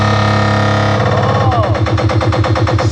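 NDR loudspeaker demonstrated for a customer, pumping loud bass-heavy music: steady booming low end with a driving pounding beat that grows busier after the first second, continuous and close throughout.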